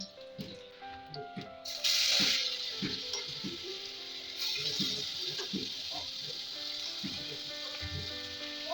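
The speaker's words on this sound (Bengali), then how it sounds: "এগুলো ভেজে নিই মানে স্টাফিংটা তৈরি করে নিই" Vegetable stuffing for momos fries in a little white oil in a kadai, giving a steady bright sizzle with a louder surge near the start and scattered soft clinks and stirring knocks throughout.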